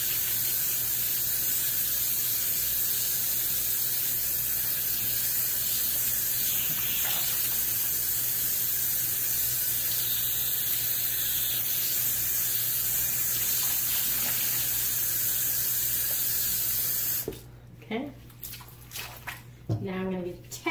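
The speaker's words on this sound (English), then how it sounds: "So I'm gonna rinse it off now." Tap water running while hair is rinsed, a continuous loud hissing spray that stops abruptly near the end, followed by a few short knocks and bumps.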